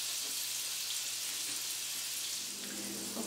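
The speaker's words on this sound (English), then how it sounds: "put our capelin into the pan" Capelin fish fry in a pan with a steady, close hiss and crackle of sizzling oil, unbroken and free of talk throughout.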